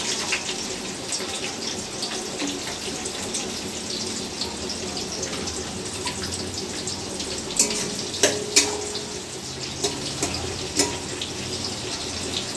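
Chopped onions sizzling in hot oil with whole garam masala spices over a medium-high gas flame, a steady close hiss with faint crackles and a few sharper pops.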